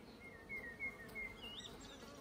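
Honey bees buzz steadily around an open hive during an inspection, a faint continuous drone with a few slightly louder swells, heard alone without talking.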